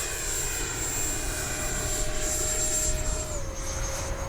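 A Freewing L-39 radio-controlled model jet making a pass overhead, giving a steady high-pitched electric ducted-fan whine with a slight pitch drop near the end, fairly loud and continuous.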